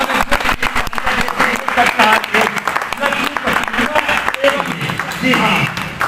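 Applause rings out among staff at a Honda dealership celebration with cake cutting, a steady wash of clapping that runs the whole time while a voice talks over it.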